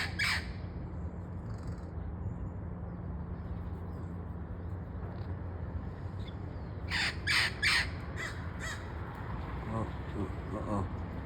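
Sparrows and crows calling outdoors among squawking parrots, harsh bursts of caws and squawks rising over steady background noise, with someone talking nearby.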